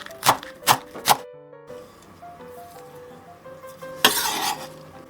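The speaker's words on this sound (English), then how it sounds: "Chop, chop, chop." A knife chops green onions on a board with three quick, crisp strikes, followed by quieter clinking and a burst of scraping near the end.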